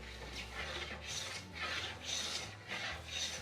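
A file rasps a slight chamfer onto the edge of a wooden door in about five steady back-and-forth strokes. Each stroke is a close, gritty scrape in an even rhythm, with no talking.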